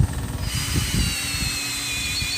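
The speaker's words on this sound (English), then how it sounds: "Now this is me drilling out the center." A power drill boring out the center of a piece of turned wood with a bit, a steady whining drone with a few low chattering bursts as the bit bites, close and fairly loud.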